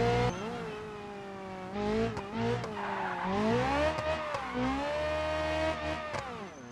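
A Covet car with a 1.5 single-cam engine in the BeamNG driving game accelerates hard, its engine note climbing through several gear shifts with brief dips, loud and close, with some tire squeal.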